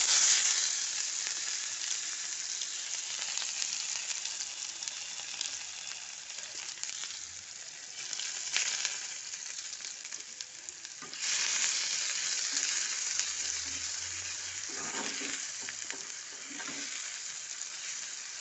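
Onions fry in oil in a wok just used for frying fish, producing a steady, crackling sizzle with occasional stirring scrapes, close and continuous, with no one talking.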